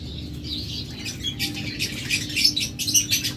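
Pet lovebirds or budgerigars chirp and tweet in quick, bright bursts amid faint wing flutters, moderately close and growing busier toward the end, with a low steady hum underneath and no voices.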